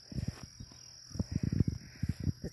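Crow-like bird cawing near a garden while tearing off and stealing sunflower heads, a series of short rough calls in quick bursts, fairly faint, over a thin steady high insect-like hum.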